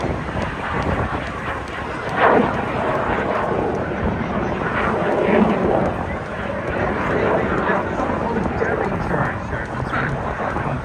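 An aerobatic airplane flies at the Bray air show in Ireland, its engine a sustained broad drone with gentle swells, heard at a distance through wind buffeting on the microphone while a commentator speaks.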